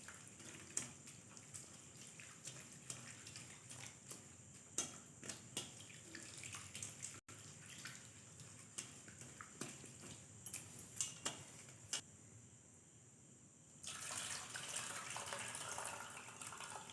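Tap water runs steadily into a bowl while flattened rice is rinsed, a soft hiss punctuated by small clicks and knocks, briefly quieter before the flow picks up again.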